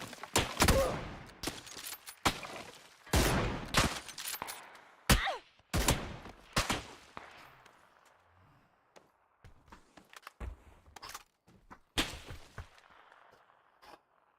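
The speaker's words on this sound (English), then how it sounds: "who's shooting from above there" Gunfire in a shooter video game: sharp close bursts and single shots cracking irregularly through the first half, then thinning to scattered fainter shots and echoing tails.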